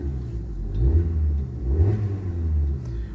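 A Suzuki Ignis 4-cylinder engine gets a few gentle revs, rising and falling in low rumbling swells while idling close by.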